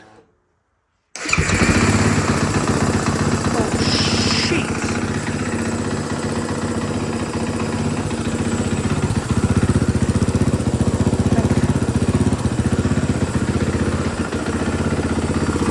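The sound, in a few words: 2015 KTM 500 EXC dirt bike engine starting and running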